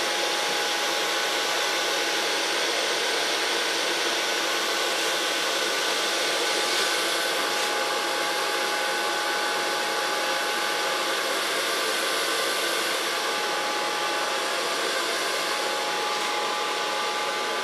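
A hair dryer runs steadily throughout, blowing hair straight up during a short feminine clipper cut, a loud continuous whoosh with a constant motor whine and no breaks or talk.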